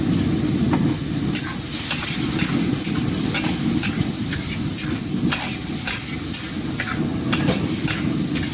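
Fried instant noodles with shredded tuna and soy sauce sizzle in a wok at a street food stall, giving a steady, close hiss and crackle broken by occasional scraping clicks.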